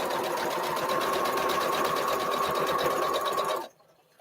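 A sewing machine stitches fabric in a steady, fast, close whir for about three and a half seconds, then stops abruptly into near silence.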